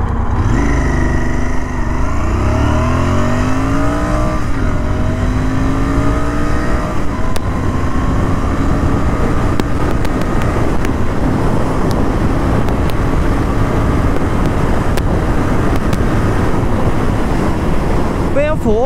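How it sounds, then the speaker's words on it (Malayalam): A 2020 BS6 Royal Enfield Interceptor 650 climbs through its gears toward a 7,500 rpm redline, engine pitch repeatedly rising under steady, heavy wind roar from riding at speed. "ഫോർത്ത് ഗിയറിലെ റെഡ് ലൈൻ ചെയ്ത് ഓൾമോസ്റ്റ് ഒരു 140 km എത്തിച്ചത്."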